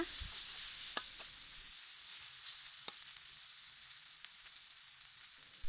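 Red curry paste stir-fried in a pan, a steady close sizzle and fry with a few soft stirring scrapes and clicks, no voices.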